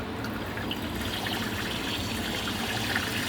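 Tap water running steadily into a bowl while rice is rinsed at home, a continuous close trickle and splash with no speech.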